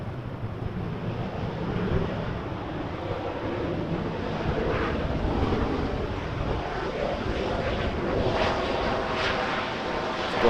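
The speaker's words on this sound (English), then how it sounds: "The Dashi just landed." A Dash 8 turboprop airliner lands at Vancouver Airport, its broad engine roar and wind rush holding steady and fairly loud throughout with no voices.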